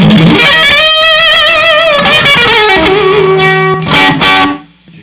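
Electric guitar fitted with EMG DG20 pickups, played loud through the first pickup position, ringing sustained notes and bends with bright bite, then a few choppy strummed chords before fading out.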